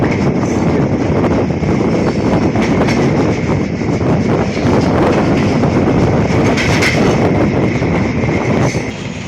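Nilsagar Express train running on the Dhaka–Chilahati route, a loud, continuous rumble and rattle of rolling carriages with wind buffeting, steady throughout before easing slightly at the end.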